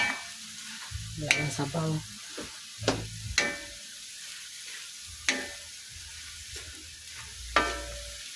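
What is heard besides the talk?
stirring adobong sitaw in a pan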